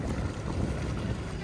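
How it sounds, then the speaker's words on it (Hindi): A motorboat cruising on Tehri Lake, a steady low engine rumble mixed with wind buffeting the microphone, continuous and close for a brief moment. "एक ड्राइवर साहब ये है जो बच्चों को घुमा रहे हैं बोट के अंदर।"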